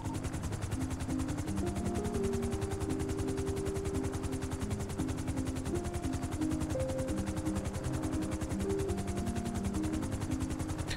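An airplane engine in a GTA roleplay game drones loudly and steadily with a fast pulsing throb, continuous throughout with no talking.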